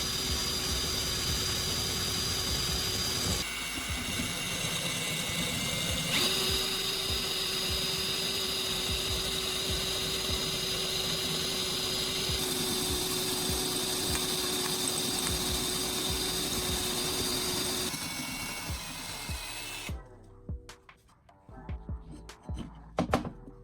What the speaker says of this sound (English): I drilled through the second hole